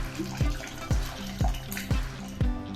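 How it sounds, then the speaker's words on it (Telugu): Tamarind water is poured into simmering drumstick-leaf dal, with five evenly spaced splashing pours that fall off quickly, each one close and fairly quiet, and no talking. "ఇప్పుడు మనం చింతపండు నీళ్ళు కూడా వేసుకోవచ్చు."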